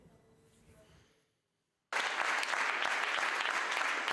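Supporters of the outgoing mayor Stéphane Le Foll in Le Mans burst into loud, dense applause on election results night. A faint murmur and brief silence come first, then sustained clapping.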